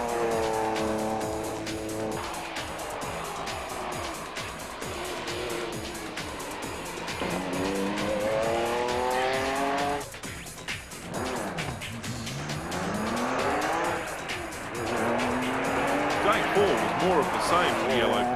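A yellow Porsche rally car racing at TARGA Tasmania, its engine wailing through rising and falling gears with squealing tires, loud and continuous, while a commentator talks over the action.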